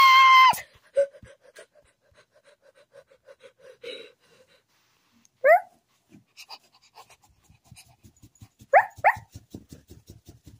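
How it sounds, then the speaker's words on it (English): A small dog in the Toca Boca video game gives sparse, short yips and little panting huffs, scattered through otherwise quiet stretches. "it's just a tiny dog"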